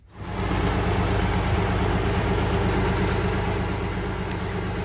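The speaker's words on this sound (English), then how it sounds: "We used the engine to pump the fuel back to the canisters." A diesel engine idles with a steady, heavy rumble close by while being used to pump fuel back into canisters, starting up and holding a constant drone throughout.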